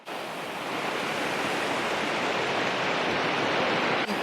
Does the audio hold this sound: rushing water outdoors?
yes